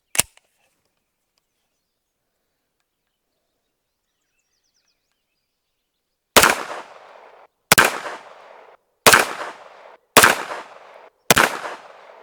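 Five loud, evenly spaced shots from a Springfield Kuna 9mm pistol-caliber carbine firing Blazer 9mm ammunition at an outdoor range, each sharp crack trailing off in a short echo, preceded by a lone early click.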